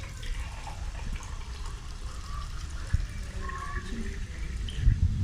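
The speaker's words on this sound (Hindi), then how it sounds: "अब इसमें जाएगा जी पानी।" Water pours steadily into a pan for semolina halwa, a continuous close trickling and splashing that holds for the whole stretch with a small clatter near the end.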